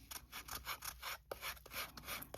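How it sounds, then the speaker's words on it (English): A handmade mini wallet is sanded by hand, giving a quiet, rhythmic rasping rub in repeated back-and-forth strokes with brief pauses between them. "So I'll go ahead and sand this on camera."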